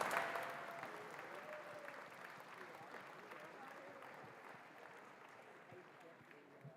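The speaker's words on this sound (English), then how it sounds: "So give yourselves a round of applause first and foremost." Crowd applause at the Australian Junior Volleyball Championships awards ceremony, many people clapping in a sustained wash that slowly fades, with a voice briefly audible at the start.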